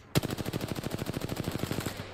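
Rapid automatic gunfire from the video game Apex Legends: a sudden sustained burst of evenly spaced shots lasting about two seconds, loud and close, with no talking over it.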